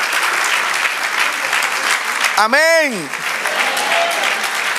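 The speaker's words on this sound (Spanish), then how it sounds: "Denle un aplauso al Señor." Congregation in a church service applauding, loud continuous clapping from many people with a single voice briefly calling out over it midway.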